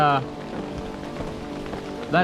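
Rain falls steadily on a camp setup, a close, even patter of drops on surfaces with no talking, and brief louder tonal sounds at the start and end.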